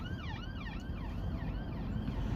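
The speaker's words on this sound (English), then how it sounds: "now he'll turn his siren on when he moves off" A police car siren wailing in repeated rising and falling sweeps, moderately distant, over a low rumble of road and engine noise.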